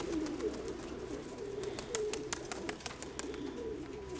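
Tumanorizy pigeons cooing steadily outdoors, soft repeated coos close by with occasional faint clicks and rustles in the background, no voices.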